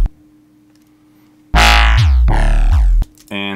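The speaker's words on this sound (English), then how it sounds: "So the call bass here sounds like this." Call bass in an electronic track made with Serum and Ableton effects: a faint low hum, then loud, gritty synth bass stabs with sweeping tones and a short buzzy tail, no voices.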